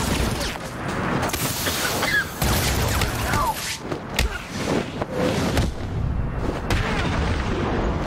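Enemies firing guns in the video game Arkham City, loud booming shots and bursts repeating throughout amid dense combat noise and thuds.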